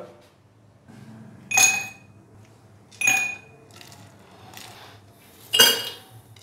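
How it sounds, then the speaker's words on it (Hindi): Ice cubes dropped into serving glasses for a mint margarita lemonade, three distinct clinking clatters spaced a second or two apart, close and clear over a quiet background. "तो सबसे पहले हम ग्लासों के अंदर डालेंगे बर्फ़।"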